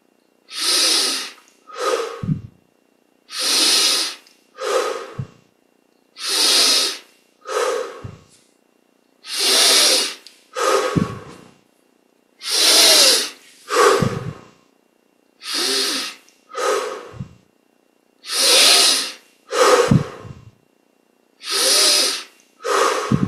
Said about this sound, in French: Et là on va prendre une bonne quinzaine de respirations profondes